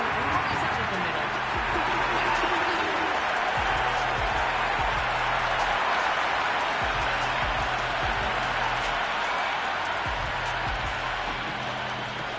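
A cricket stadium crowd in the video game Cricket 26, during an IPL match between SRH and RR, sends up a steady, dense roar of cheering and clapping throughout, while a commentator talks over it.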